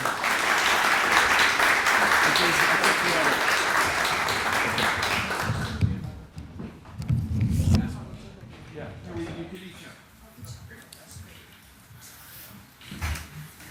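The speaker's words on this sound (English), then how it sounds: "Let's have a little applause for Jason." Conference attendees at a plenary panel on technology and nature preservation applaud the chair, Jason Hudson, with steady, fairly loud clapping for about six seconds before it dies away into shuffling and low room noise.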